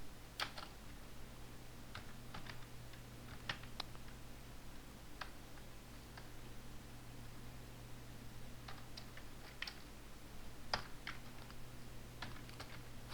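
Fingers type code on a computer keyboard in quick, irregular bursts of light clicks. The keys sound faint over a steady low hum and fan noise, and no one speaks.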